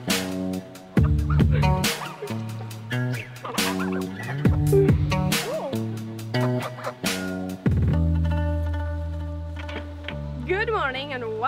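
Farmyard fowl call loudly at close range, a run of harsh, warbling gobble-like cries repeated in bursts, with a person calling out to the birds over them.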